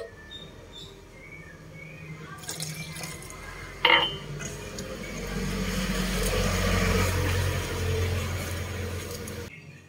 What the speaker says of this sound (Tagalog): Lagyan ng 2 and 1/4 cup na water.